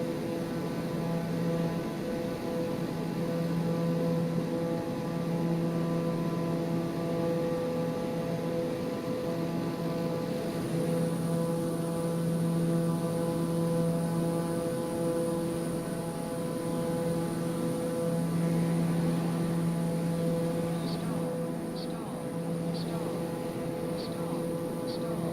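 An airliner in a Flight Simulator video game cruises at altitude during a large storm near Japan, a steady droning engine hum with tonal whine throughout, faint ticking toward the end and no audible speech.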